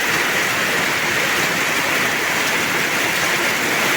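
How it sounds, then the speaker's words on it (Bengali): Heavy, steady rain pours down over rural Muradnagar, Cumilla, a dense continuous hiss of drops with no pauses, loud and close throughout. "প্রচুর বৃষ্টি দেখেন"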